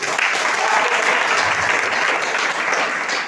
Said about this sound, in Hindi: बिल्कुल शानदार ताली दीजिए लोग।